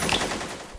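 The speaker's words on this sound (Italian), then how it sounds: "Sparate a quegli stronzi!" Rapid automatic gunfire in a Vietnam flashback scene, a short loud burst of shots packed tightly together in under a second.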